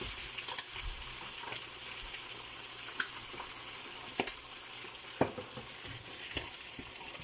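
Fish cooks in a pan with ginger powder while being stirred, giving a steady, fairly soft sizzle with occasional clicks and scrapes from the stirring, close up and with no voices.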